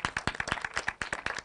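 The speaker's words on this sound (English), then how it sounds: "maybe a big round of applause" An audience at a talk on tipping points and mobilising the next generations claps in a lively round of applause, with dense, irregular individual claps close by and no talking.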